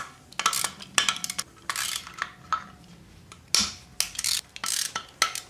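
A ratchet works loose 12 mm bolts on a cylinder head being torn down after a rod knock, in quick bursts of sharp metallic clicking broken by short pauses and clinks.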